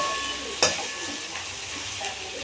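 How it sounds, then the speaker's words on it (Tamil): Dried fish and onion masala stirred and frying in a pan over a low flame, with a steady close sizzle, one sharp scrape of the spatula early on, and a softer stir later. "கருவாடெல்லாம் போட்டுங்க நல்லா கலந்து விட்டுக்குங்க"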